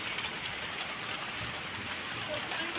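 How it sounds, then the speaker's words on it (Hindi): Steady rain falls outside an open door, a dense, even hiss of drops at a moderate level with no clear breaks across the whole stretch. "तो बस ये बारिश हो रही है,"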